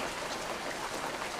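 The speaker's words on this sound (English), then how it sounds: "the rain on the Steam game" Rain ambience in a Steam video game, a steady soft hiss of falling rain with no distinct drops standing out, fairly quiet and even throughout.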